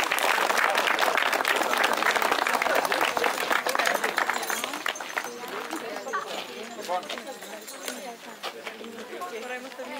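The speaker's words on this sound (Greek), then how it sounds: "Ένα χειροκρότημα για όλα τα παιδιά." Audience applause for children at a youth championship award ceremony, a loud sustained burst of clapping that gradually thins and fades, with birds cooing and chirping nearby and voices murmuring underneath.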